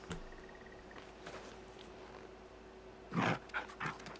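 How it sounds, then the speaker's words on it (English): A dog in the video game Final Fantasy XVI gives brief breathy pants and soft whimpers near the end, over a quiet steady background hum. "Happy dog."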